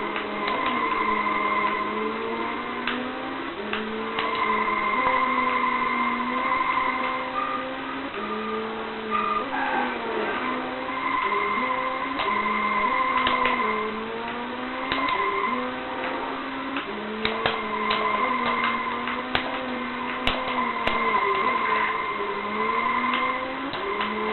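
Engine drone of a car in a rally video game, rising and falling with gear changes, with intermittent tire skids and ticking clicks, steady and loud throughout.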